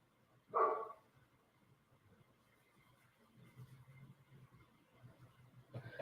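A dog gives one short, sharp bark at a distance early on, followed by a quiet indoor room with faint low rumbling and shuffling.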